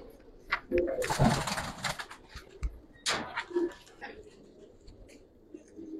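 Giribaz pigeons give soft, intermittent cooing close by, partly under someone talking loudly about the birds.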